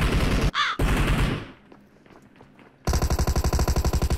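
Automatic gunfire in the PUBG Mobile game, loud rapid bursts at the start, a short quieter pause with scattered faint shots, then another sustained rattling burst.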